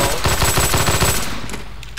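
Rapid automatic gunfire from a beta weapon in Half-Life 2, a loud, close stream of shots that tails off toward the end.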